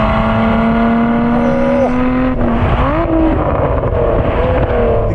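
A Lotus Emira sports car accelerating under a loud steady engine whine that drops sharply at a gear shift, then climbs again, heard from inside with heavy wind and road rumble.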